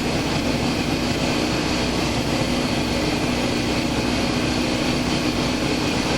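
A Piper Sport Cub with a Baublitz 9W8 propeller roars steadily and loudly, a dense unbroken engine and wind drone, as it comes in for a high-speed low pass over the runway.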